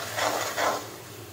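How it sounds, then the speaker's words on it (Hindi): Spices roast in a hot pan over high heat, giving a brief close hiss with two soft swells of scraping or stirring. "और आँच हम तेज रखेंगे ताकि हमारे मसाले अच्छी तरह से भून सके।"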